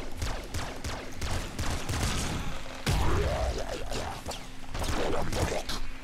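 Dense, continuous bursts of corpse explosions and gunfire in the video game Nuclear Throne, booming and crackling with barely a pause, loud and chaotic.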